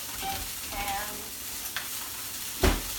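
Onions and red cabbage tossed into a hot pan for fish laab, a soft continuous sizzle with light stirring scrapes and one sharp knock near the end, close and unaccompanied by talk.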